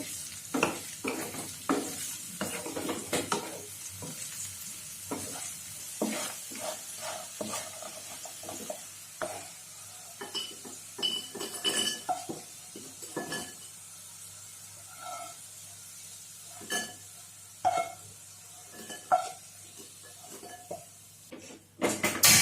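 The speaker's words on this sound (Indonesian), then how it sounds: "kita goreng sampai dia kuning" Potatoes frying in hot oil, sizzling and crackling, with intermittent bursts of spattering and stirring sounds over a steady low hiss, no voices.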